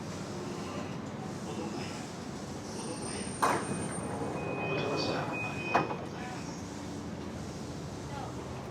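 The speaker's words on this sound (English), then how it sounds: "is our train, the Yokosuka line heading to Kurihama Station" A Yokosuka Line train in Japan heading to Kurihama Station, with a steady low rumble of the moving carriage, a couple of brief knocks or door-like thumps, and faint high tones, heard from inside the front car.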